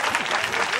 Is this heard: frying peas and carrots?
no